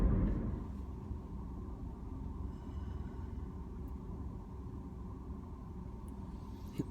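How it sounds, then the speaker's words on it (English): Steady low engine rumble and road noise from inside a moving car, constant and fairly quiet throughout, with no voices. "I'm so glad that Ian Owens is driving my car."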